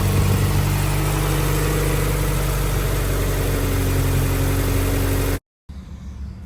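A turbocharged Honda Integra B18C engine runs on all four cylinders, a loud, steady, close idle drone that holds evenly before cutting out abruptly, followed by a faint low rumble.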